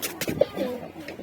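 A pigeon in a coop gives one short, soft, low coo at close range, with a faint chirp nearby.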